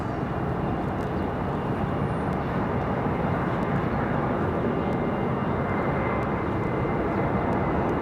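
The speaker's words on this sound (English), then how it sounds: "definitely sounds like a Max. Firing engines." Jet engines of a Boeing 737 MAX at Raleigh-Durham International Airport spool up in a steady, loud, broadband roar that holds unbroken throughout.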